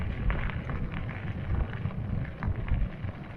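Wind rushes past while riding an electric bike across a bridge in northeast Latvia or southeast Estonia, making a continuous rumbling, buffeting roar close to the microphone with no voices.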